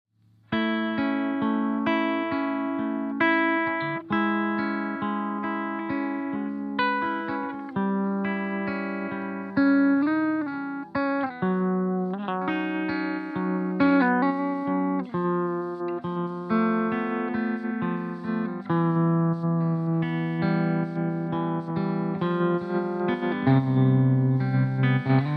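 Stylus effects pedal with its Degrade effect run into cranked distortion, playing a continuous, dense distorted guitar line with shifting chords and a gritty, lo-fi texture, loud and steady throughout with no talking.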